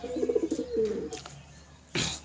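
High-flying pigeons coo softly nearby in a short run of low, rolling calls, followed by a brief noisy rustle.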